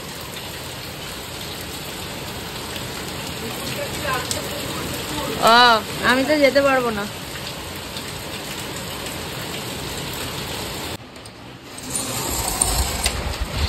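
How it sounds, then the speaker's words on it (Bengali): Heavy rain pours steadily outside late at night, a dense, even hiss that fills the whole stretch, with a short burst of nearby talk in the middle and the downpour briefly dipping near the end. "বাইরে মুষলধারে বৃষ্টি হচ্ছে"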